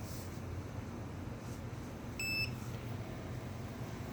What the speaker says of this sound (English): We're going to hear a little beep.